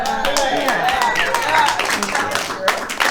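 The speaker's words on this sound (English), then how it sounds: "I noticed not all of you clap." Audience clapping at a Valentine's comedy show, a loose, thin patter of claps from part of the crowd running across the moment, with voices and laughter mixed in underneath.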